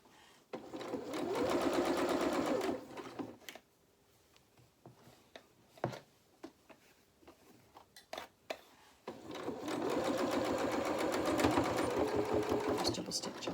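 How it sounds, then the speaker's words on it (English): A sewing machine runs in two long, loud, steady bursts, top stitching a double row on jeans, with a quieter stretch of small handling clicks and taps between them. "Just double stitch on the top there,"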